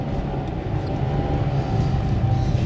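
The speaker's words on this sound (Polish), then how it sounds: "Dodaję gazu na zakręcie i od razu koła mielą i mnie znosi." A Mazda fitted with Vredestein Quatrac Pro tyres spins its wheels on a snowy bend, giving a steady low engine drone and tyre churn that runs continuously and fairly loud the whole time, with no talking.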